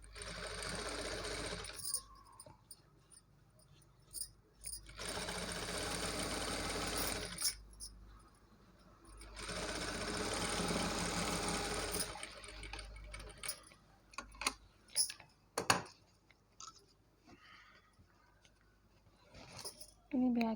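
A sewing machine runs close by as it topstitches the lining of a maggam work blouse. It whirs steadily in three long runs separated by pauses, then gives way to fabric handling, clicks and a voice talking.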